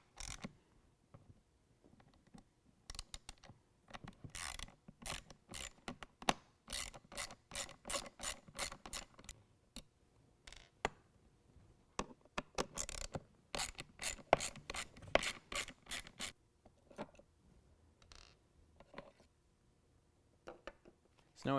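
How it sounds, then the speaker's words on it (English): A T20 Torx bit on a ratchet clicks in rapid bursts while removing a sensor from the factory airbox of a 2017 Ford F-250 Powerstroke, with sharp close ratcheting repeated through the clip and short pauses between runs. "we're going to use a T20 Torx bit to take off this sensor that's on our factory airbox."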